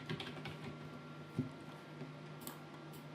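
Keys tapped on a computer keyboard while text is entered in Adobe Photoshop: soft, quiet clicks in an irregular patter, with one sharper keystroke near the middle and faint hiss underneath.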